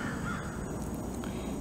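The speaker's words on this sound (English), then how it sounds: "The crows are back." Crows cawing outdoors on a Saturday morning, faint distant calls scattered across a short stretch against steady background noise.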